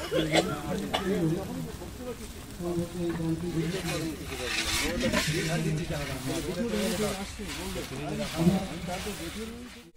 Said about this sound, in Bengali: মশলাগুলো আস্তে আস্তে সমস্ত কষিয়ে নিচ্ছি